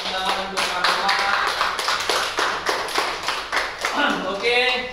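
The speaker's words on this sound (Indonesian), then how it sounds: "bisa kita berikan tepuk tangan untuk Pak" A group of teachers in a classroom session claps for a colleague. The claps are close and crisp, a dense irregular rhythm lasting several seconds, with a voice briefly audible near the end.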